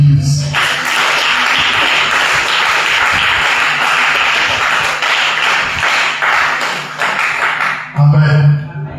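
A church congregation applauding Jesus Christ, loud, dense and sustained clapping filling the room for several seconds before fading, with a voice briefly rising near the end.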